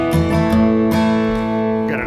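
A stringed instrument plucks a quick run of notes from the fiddle tune Old Joe Clark that settles onto a sustained final chord, ringing clearly with no voices.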